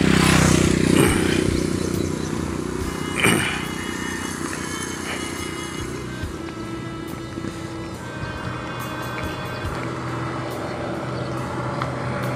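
A motorcycle passes along a residential street, its engine drone loudest at the start and then fading into a steady rumble of street noise. There is no talk.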